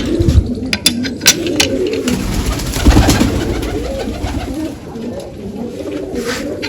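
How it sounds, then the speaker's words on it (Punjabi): Pigeons coo repeatedly close by, low throaty calls overlapping, with scattered clicks and shuffling sounds around them. "ਆ ਦਾਣੇ ਚੁਗੀ ਜਾਂਦੇ ਕਬੂਤਰ"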